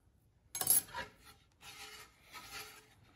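Clay slip is scraped across a pottery wheel head and a wooden bat is set down on it, heard as a sharp rasping burst followed by two softer, drawn-out scraping passes close by.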